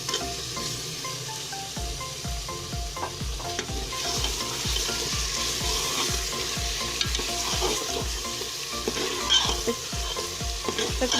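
Chicken and green chillies fry with tomatoes and onions in a pan, with a close, steady sizzle under rhythmic stirring scrapes and thumps that repeat about twice a second throughout.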